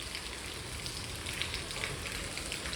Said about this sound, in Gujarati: ને જો ને વરસાદ ચાલુ.